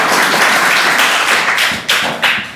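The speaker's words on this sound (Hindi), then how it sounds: "ताली बजा दो, कुछ नहीं पैसा।" An audience breaks into applause, a dense, loud wash of many hands clapping continuously, with a couple of sharper bursts near the end and no talk.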